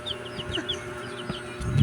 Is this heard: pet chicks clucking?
yes